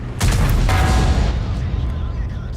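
In a tank video game, a tank cannon fires one heavy, booming shot that rings out loud and close, then rumbles away into a sustained low roar.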